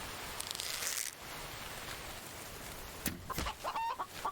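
A chicken clucks in the survival video game The Infected, a short run of quick, close clucks near the end after a quiet stretch of faint ambient hiss.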